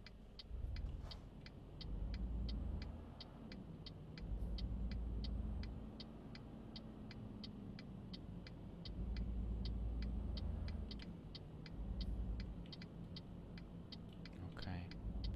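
A Renault truck in Euro Truck Simulator 2 drives with an oversize load, its engine a low, steady rumble that swells and fades, while a regular ticking indicator clicks over it throughout.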